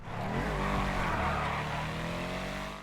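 The 8F Drafter sports car from GTA Online gives a loud, steady engine note with a continuous throaty roar and shifting harmonic tones, sustained for about three seconds with no talk over it.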